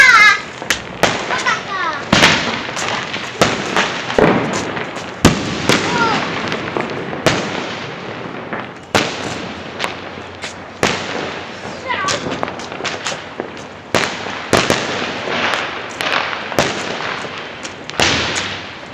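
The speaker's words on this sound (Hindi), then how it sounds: "मुझे पटाखे देखो" Diwali fireworks and firecrackers burst in a rapid, irregular barrage of sharp cracks and booms, some close and loud, others farther off, with voices occasionally heard between blasts.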